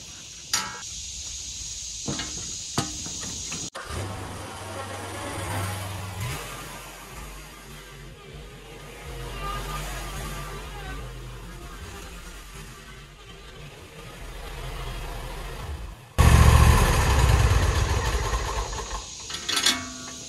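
A Gravely Pro-Turn 200 zero-turn mower engine runs in a steady, close, moderately loud drone after a hydraulic fluid and filter change on its Hydro-Gear ZT5400 rear end, then surges louder near the end.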